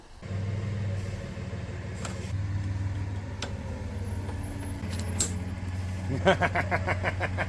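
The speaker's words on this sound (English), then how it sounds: "And then it backfires and does that." A Tecumseh engine on a Mastercraft boat runs with a steady rough idle, then backfires with a short burst of sharp popping pops near the end, close and fairly loud.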